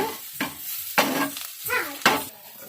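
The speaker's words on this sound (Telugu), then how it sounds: "చక్క మంచిగా మొత్తం ఇలాగా తిప్పుకుందాం" Cooked rice is stirred in a pan with cream of mushroom and herbs, giving several separate scraping stirs over a soft background sizzle, close and moderately loud.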